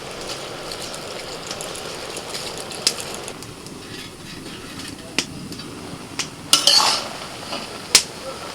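Taro leaves boiling in a pot are turned and stirred, giving scattered faint scrapes and a few sharper clinks of utensil on metal over a steady low background.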